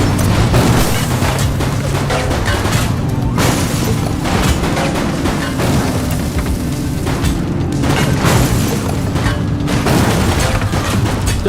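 Gunfire in the police game The Precinct, a dense ongoing barrage of booming shots and impacts over a continuous loud bed of game noise and engine-like rumble, with no clear gaps.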